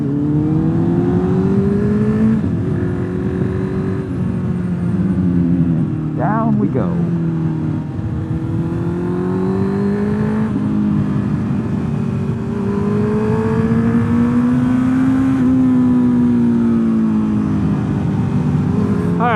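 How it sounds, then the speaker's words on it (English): A Honda CB650R motorcycle with a loud aftermarket exhaust accelerates repeatedly, its engine note climbing through gears in rising sweeps with brief drops at shifts, close and loud, while a rider talks briefly over it. "final verdict on the old CB650R's exhaust"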